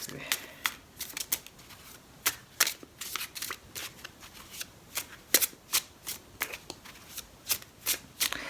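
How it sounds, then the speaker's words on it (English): A tarot card deck is shuffled by hand, with repeated crisp riffling bursts and soft card slaps in an uneven rhythm, close and clear. "I'll just draw the last card just by fanning out the deck and just choosing a card"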